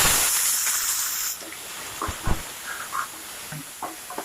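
Onions frying in a pan with curry leaves, green chilli and dried chilli, a steady hiss and sizzle that eases after the first second, followed by a few scattered soft pops and stirring clicks.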